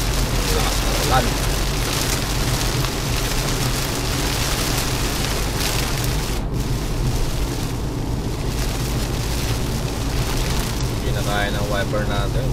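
Heavy rain pounds a moving vehicle, a dense, constant hiss and roar of water with wipers working, while a driver talks over the downpour.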